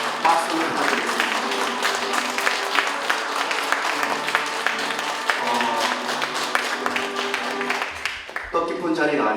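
An audience applauding at an award ceremony held in a room on the fourth floor of Seoul Station, sustained dense clapping close by for several seconds, with a voice speaking over it near the end.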